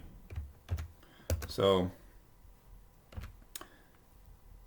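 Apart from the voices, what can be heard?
typing on a computer keyboard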